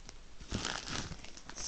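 Plastic mail bag crinkling and rustling up close during unpacking of a package, a short burst of crackly handling noise.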